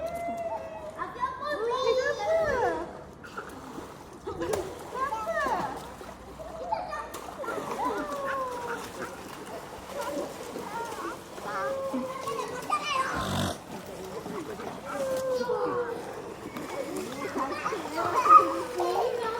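Children shout and play while splashing in the water at a beach in Port Dickson, with irregular splashes and excited voices, and adults talking nearby.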